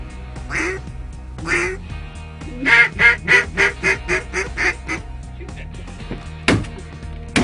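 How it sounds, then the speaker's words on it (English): A duck quacks loudly and close by at a waterfowl hunting blind, first with a few separate calls and then a rhythmic run of about eight quacks, followed by one sharp final note. "here's the first duck of the morning"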